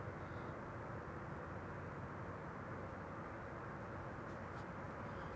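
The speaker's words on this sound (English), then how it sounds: "Airplane passing overhead, but really hard to see" Airplane passing overhead at Amsterdam Schiphol Airport, a steady, continuous low rumble that stays at an even, moderate level throughout without voices.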